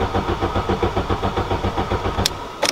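A Volkswagen MK4 wagon cranking on a first cold start, a rapid rhythmic starter chug pulsing evenly, then brief sharp clicks near the end as the engine tries to catch.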